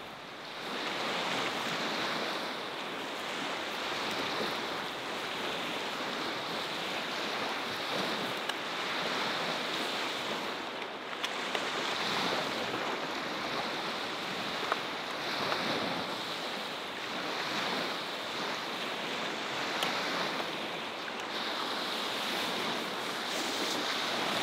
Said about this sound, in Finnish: Vesi tuolla pauhua ulkona